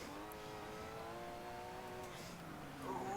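A small Porsche race car engine in a racing video game, humming steadily and fairly faintly at an even pitch, then swelling slightly at the very end.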